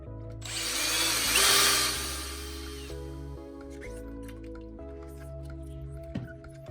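A power drill spins a 3000 grit sanding disc on a wet Nintendo GameCube jewel, a loud whirring burst that fades after about two seconds, then quieter wet scuffing over a steady low hum.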